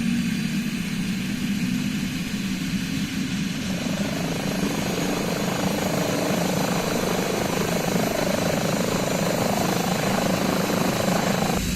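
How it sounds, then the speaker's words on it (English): Simulated Airbus H145 helicopter in Microsoft Flight Simulator, a steady loud rotor and turbine drone that holds close and even throughout, with no talking. "This is the Airbus H145 by High Performance Group."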